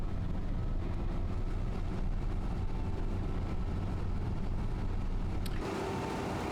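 A 1997 combine harvester engine in Farming Simulator 25 drones steadily and loudly, a dense continuous rumble with no talk, its tone shifting slightly near the end.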